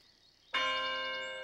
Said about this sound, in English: that's what I call a doorbell